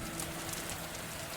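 Steady rain hits a surface as a continuous, even hiss, with a low hum running underneath, heard close and on its own.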